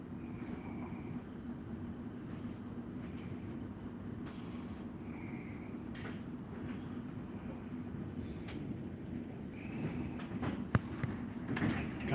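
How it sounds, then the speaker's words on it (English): A suburban train pulls into Frankston station with a steady low rumble and hum inside the carriage, then sliding doors and clunks near the end, with faint voices in the background. "This train will be terminating at Frankston."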